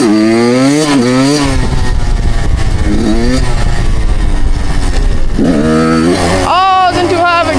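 A dirt bike engine revs loudly and close, its pitch climbing and falling in repeated surges, with a brief strained high-gear pull.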